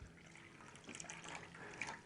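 Quiet trickle of 9.5 pH alkaline water being poured straight into a drink, a soft liquid splash and gurgle that stays faint and close throughout, with no talk.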